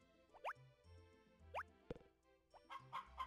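Chickens in the farm game Harvest Moon: Back to Nature give a few short, clipped clucks and squawks spread across a few seconds, fairly faint, with soft game tones underneath.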